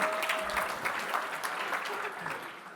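Audience applause fills a large hall during a keynote talk, a steady dense clatter of many hands clapping that holds for about three seconds and tapers slightly at the end.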